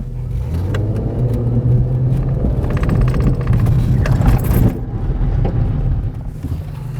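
A 1998 Ford Contour rolls along and brakes to a stop, a steady low engine and road hum with tyre rumble that swells and then eases off as the car slows, heard close from inside the cabin.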